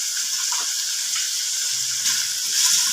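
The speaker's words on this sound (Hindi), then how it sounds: "अब इसको अच्छी तरह से फ्राई कर लेंगे।" Chicken with turmeric, coriander, cumin and red chilli powders fries in a pan, giving a steady close hiss with faint stirring scrapes.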